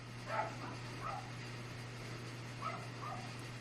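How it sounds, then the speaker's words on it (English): A pet dog barks indoors in two short clusters of faint, distant yips and woofs, about four barks in all, over a low electrical hum. "If you hear my dog"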